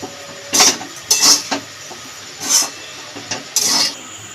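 A spoon scrapes and rasps against a pot while semolina pulao is stirred and mixed, in four or five short, close strokes separated by brief pauses.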